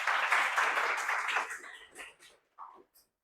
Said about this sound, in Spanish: nosotros también de costumbre recibimos con un aplauso a la invitada